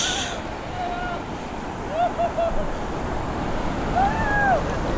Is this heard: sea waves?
yes